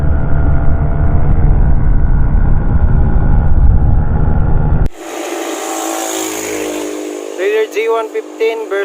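A Raider J 115 Fi and an XRM 125 Fi motorcycle rev loud and close at a drag race, a dense engine roar that cuts off abruptly into quieter crowd noise with people talking and shouting.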